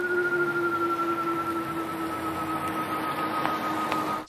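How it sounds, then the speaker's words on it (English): A steady electronic hum with two sustained tones drones continuously at moderate volume, the pedestrian warning sound of a 2021 Tesla Model 3 while reversing, with no talking. "when reversing, the Model 3 has this weird alien noise"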